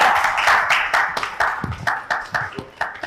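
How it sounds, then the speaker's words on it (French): Studio audience applauds to welcome Richard Flash onto a talk-show set, a dense wash of clapping with a few sharper individual claps standing out, loud and steady throughout. "On applaudit encore."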